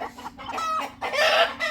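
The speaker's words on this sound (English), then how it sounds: "What are all of you guys cackling about?" Backyard chickens cackling and clucking, several loud close bursts of squawking calls with short gaps between them.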